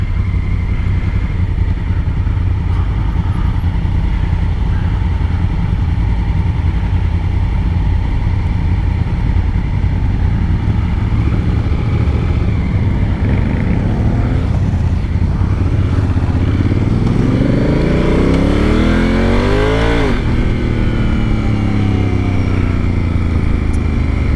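A 2019 Honda Africa Twin DCT motorcycle engine runs steadily with a loud, close drone, then the throttle blips and the revs sweep up and fall back near the end, with no voices heard.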